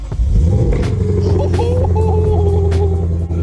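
A Lexus RC F V8 starts up and settles into a loud, deep, throbbing idle close by, with a brief voice under the rumble.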